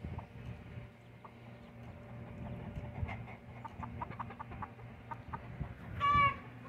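Silkie-cross chickens cluck softly nearby in a small rhythmic series of low calls over outdoor background noise, ending with a louder squawk.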